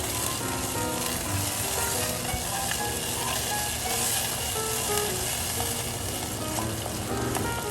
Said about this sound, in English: We're gonna deglaze our pot here with our red wine vinegar.